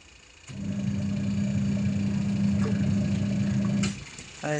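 A washing machine washing clothes, its motor starting up into a steady, loud droning hum with a low tonal whine that runs for several seconds before cutting out abruptly.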